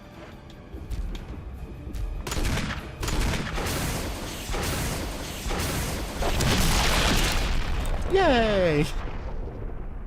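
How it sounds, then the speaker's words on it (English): Rocket launcher blasts in the game Resident Evil HD land as repeated heavy booms and rumbling explosions through a boss fight, loud and dense, with a short excited voice cheering near the end. "Rocket launcher."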